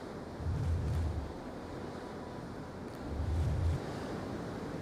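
Ocean waves breaking on Swanage Beach beside groynes jutting into the sea, a constant wash of surf with two low rumbling swells, heard under wind buffeting the microphone.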